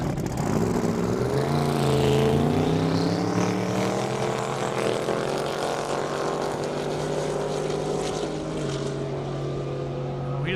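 A Chevrolet S10 drag racing truck with about 1,000 horsepower roars loudly and steadily down an airstrip at over 190 mph, its engine note droning and shifting pitch as it runs.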